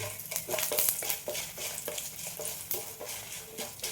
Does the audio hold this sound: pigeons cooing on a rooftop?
no